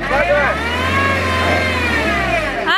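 A car engine revs hard and steadily for nearly three seconds as it is pulled free of mud, loud and close, with a low rumble under rising and falling whine and voices shouting over it.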